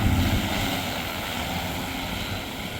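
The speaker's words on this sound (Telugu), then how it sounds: "thirty three KV power lines కింద గగన్ డ్రోన్ ఫ్లై అవుతుంది" A Gagan X8 agricultural drone's propellers hum steadily and loudly throughout while flying under 33 kV power lines, a constant whirring buzz with no pauses.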